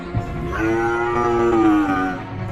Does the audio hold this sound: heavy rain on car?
no